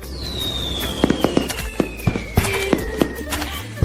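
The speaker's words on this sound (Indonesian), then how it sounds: "Kita di sini menyalakan kembang api." Fireworks going off outdoors near a mountain home: a rising whistle sweeps down steadily while sharp pops and crackling bursts repeat through the clip, fairly close and loud.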